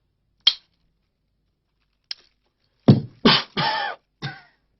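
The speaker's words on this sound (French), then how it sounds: "Le cigare me fait tousser." A person coughs after smoking a cigar, with a couple of short sharp bursts followed by a louder cluster of rough, throaty coughs, close and alone in a quiet room.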